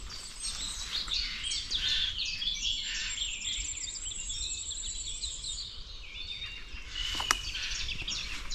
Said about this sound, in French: aucun bruit de voiture, de rien du tout, il n'y a que le chant des oiseaux